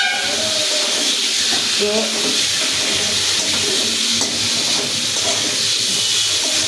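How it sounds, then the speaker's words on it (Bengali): Spice paste of ground garlic, ginger, cumin and chili sizzling in hot oil, a steady loud hiss throughout with faint stirring sounds and a brief spoken word. "মশলাটা ভেজে নেওয়া হয়ে গেল"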